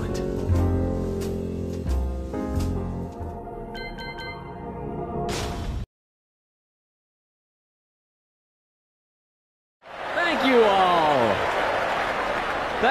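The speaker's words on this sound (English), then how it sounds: "Thank you for your applause." Tonal music plays, falls silent, then a burst of crowd applause with whistling rises for the last few seconds, from a Tekken video game ending.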